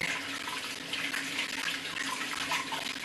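Tap water runs steadily from a faucet as hands are rinsed under it, a continuous close splashing hiss with no talk.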